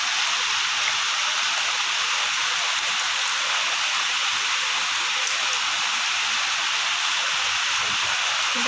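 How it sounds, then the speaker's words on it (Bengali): Steady, dense hiss of rain pouring down without a break, loud and close, with no voices. "প্রচণ্ড পরিমাণে বৃষ্টি হচ্ছে আমাদের এখানে।"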